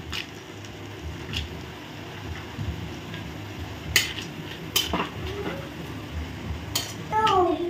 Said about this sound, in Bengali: সবগুলো দিয়ে ভেজে নেবো। ঘিয়ে ভাজি কিন্তু বন্ধুরা।